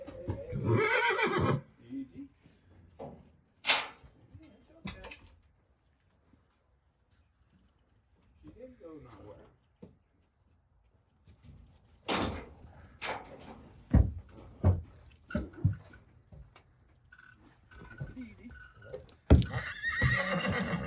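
Horses whinny and neigh in bursts with quiet gaps between, along with scattered knocks and clip-clop and a few voices in the background.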